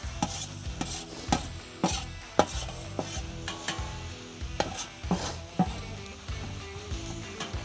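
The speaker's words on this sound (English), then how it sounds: "So you can hear that still sizzling." Onions and red peppers sizzle steadily in a hot pan for a mountain man breakfast, with regular scraping strikes of a utensil stirring them, close up and with no voices.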